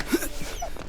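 A dog gives a short, high-pitched whimper up close, a brief whiny yelp over faint background noise.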